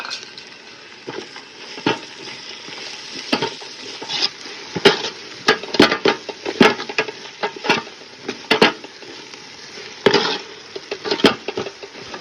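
Ginger and garlic sauté in hot oil for chicken biryani, a steady close sizzle broken by sharp clatters of a spoon stirring against the pan, with no talking.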